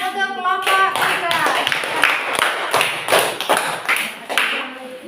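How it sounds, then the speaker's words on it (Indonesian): Pupils in a primary-school science class clap for a group of classmates, quick close-up claps in a loose rhythm, loud and near, with voices calling out briefly at the start. "tepuk tangan untuk kelompok 3"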